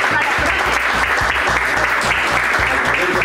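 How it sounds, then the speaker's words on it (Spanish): An audience applauds the governor at a recognition event for youth footballers from the Gothia Cup 2019. Loud, sustained clapping from many hands, with a strong rhythmic thump running through it, continuous and without talk. "así que un aplauso para él"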